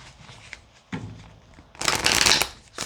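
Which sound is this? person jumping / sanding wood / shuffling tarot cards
shuffling tarot cards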